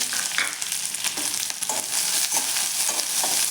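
Finely chopped onion fries in hot oil in a small kadhai, giving a continuous loud hiss and sizzle with periodic stirring scrapes, heard close and alone.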